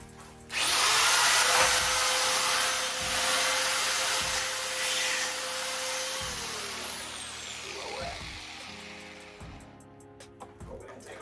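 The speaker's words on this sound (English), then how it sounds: "More passes with the grinder." A power grinder works on the rear quarter panel of a 1965 car, starting abruptly and holding a loud, steady whine that gradually eases and tapers off at the end.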